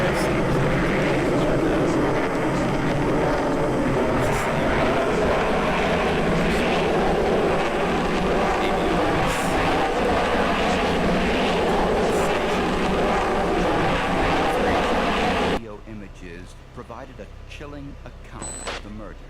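A fixed-wing airplane passes overhead, a continuous broad roar of engine noise held at a steady loud level for about fifteen seconds before cutting off abruptly to quieter background sound.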